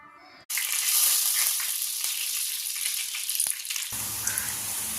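Jackfruit seed murukku dough drops into hot oil with a sudden loud sizzle. The frying hiss stays strong and steady, broken by occasional light stirring clicks.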